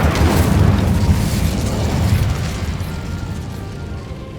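A fiery Incendio spell blast from Hogwarts Legacy erupts with a loud, dense booming roar that slowly fades over a few seconds, with no voices.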